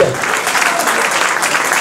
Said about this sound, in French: on peut une nouvelle fois l'applaudir